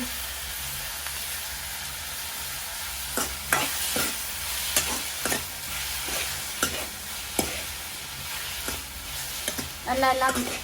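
Tomatoes sautéing in oil in a pan for a Sri Lankan Kilinochchi-style prawn curry, with a steady sizzle broken by intermittent scrapes and clacks of a spoon as the mixture is stirred.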